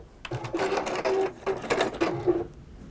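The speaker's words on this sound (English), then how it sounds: "And then you sew the 4 patch together." A sewing machine stitches quilt patches into a four-patch block, running in several short bursts with brief pauses between them, fairly close and steady.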